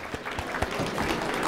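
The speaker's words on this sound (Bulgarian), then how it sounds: "Аплодисменти за Поля!" Audience applause for a prize winner at the closing of a QA conference event, fairly quiet clapping from a crowd with a few sharper claps standing out, building slightly across the short burst.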